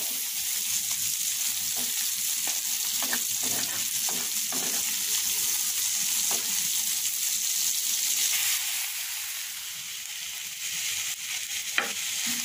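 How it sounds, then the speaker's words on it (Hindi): Shrimp fry in a pan along with boiled greens, giving a steady sizzle broken by a handful of short scraping stirs, fairly close and without any talking over it. "चिंगड़ी माछटा एक बादामी कलर होलेई आमी सिद्ध करा शाकगुलो दिए देब"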